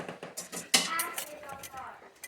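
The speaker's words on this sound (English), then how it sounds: "I think I need to whisk it. I need to whisk it." A whisk clatters and scrapes against a metal pot while mixing a sauce for hot chicken sandwiches, giving close, quiet, irregular clinks with one sharper knock.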